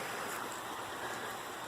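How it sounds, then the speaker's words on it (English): Creek water flows past the stone rock work of an old grist mill, a quiet, continuous rushing wash heard from a short distance, with no voices. "Creek ends right here."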